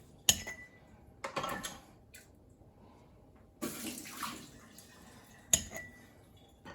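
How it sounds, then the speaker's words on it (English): Warm water emptied out of glass canning jars in a kitchen, in several separate splashing pours and gushes with short quiet gaps between them, close by, with light clinks of glass. "We're going to empty out the water that's in them."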